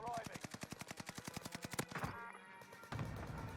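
Rapid automatic gunfire in the video game Call of Duty Warzone, a fast regular burst of loud shots that stops abruptly, followed by quieter game sounds and a brief further crack.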